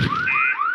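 A school fire alarm sounds as a loud electronic siren, its tone sweeping upward again and again in quick repeated rises with nothing else heard over it.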